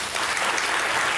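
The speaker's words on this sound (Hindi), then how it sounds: "वो तालियां बजाएं।" A studio audience at an interview show claps in a brief, dense burst of applause that stays steady and fairly soft from start to finish.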